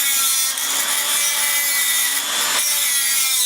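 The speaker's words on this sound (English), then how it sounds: "I'm going to grind off front of this so it's a little smaller and cut some slits in it" A bolt being ground down with a power grinder to cut slits like a tap during subframe work on an E30, giving a steady, harsh, high-pitched rasping whine with brief dips as pressure shifts.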